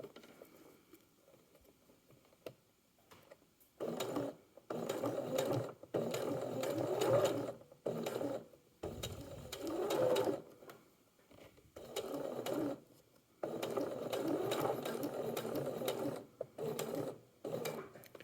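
A sewing machine stitches a hook-and-eye closure, stopping at each edge to pivot the fabric. It runs in repeated close bursts of rapid rattling, separated by short quiet pauses.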